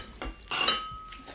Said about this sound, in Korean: 자, 지금 제가 지금 비비고 있는 건 참치 덮밥인데요.